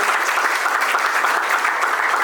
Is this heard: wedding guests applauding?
yes